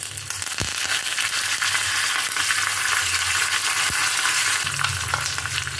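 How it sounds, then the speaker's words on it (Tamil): Mustard seeds, urad dal, cumin and dried red chillies sputter and crackle in hot oil for a South Indian tempering, a steady close sizzle with a few sharp pops and no voices. "இப்போ நம்ம தாளிச்சு கொட்டிடலாம். கடுகு, உளுந்து, கொஞ்சம் சீரகம், 2 காஞ்ச மிளகாய்,"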